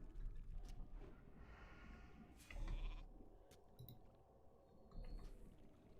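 A sheep bleat from a polymorph spell in World of Warcraft: The Burning Crusade, a short cartoonish bleat heard amid game effects and background music, with no speech.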